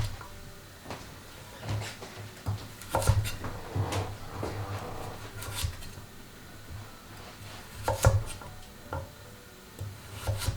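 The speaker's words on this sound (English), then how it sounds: "after I've sliced it, roll it onto that cut side once again, and cut an oblique cut, cut on a bias" A knife chops a vegetable at an oblique angle on a wooden cutting board, giving a run of irregular, close, sharp taps and thuds with soft rolling and scraping in between. No one talks.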